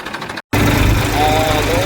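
A new tractor's diesel engine runs steadily during sowing on a farm, a loud continuous drone that holds after a brief gap near the start, with a voice talking over it.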